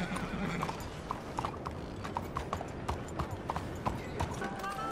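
Toy Story's horse Bullseye gallops in a game parody, hooves clip-clopping in a quick steady rhythm close by, with a whinny near the start and other sounds in the background.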